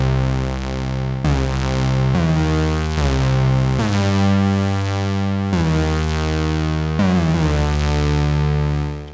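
An Elektron Syntakt synthesizer plays overdriven, harmonically rich tones sent through reverb, with a series of sustained notes struck one after another and each tail ringing out and blending into the next, loud and close.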